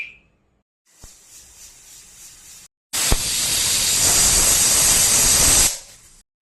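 A pressure cooker of chickpea curry letting off steam, first a softer hiss, then after a short break a loud, sustained whistling hiss lasting about three seconds before cutting off.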